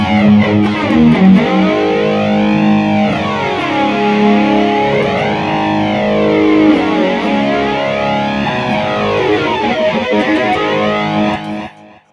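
An electric guitar runs through an 80s-style flanger on a BOSS eBAND JS-10, its sustained chords carrying a slow, sweeping jet-like whoosh that rises and falls in repeated waves before cutting off at the end.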